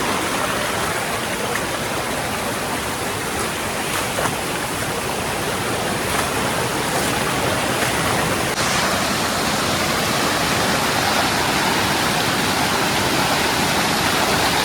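Bhagirath Waterfall near Mumbai, fast-flowing water roaring in a dense, continuous broadband rush, loud and close throughout with no talk.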